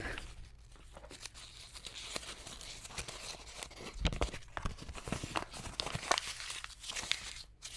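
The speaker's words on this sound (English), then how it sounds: "So you just crumple it and uncrumple it over and over and over until you're happy with the texture." Cardstock paper crumpled and uncrumpled by hand, a close run of irregular crinkling and tearing crackles over about eight seconds, growing louder toward the end with no talking.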